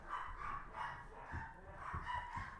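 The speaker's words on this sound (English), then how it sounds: "My dogs are going nuts upstairs right now." Small dogs, a Dachshund Chihuahua and a puppy, bark excitedly upstairs in a house, with repeated muffled yips and barks at a distance, faint and continuous.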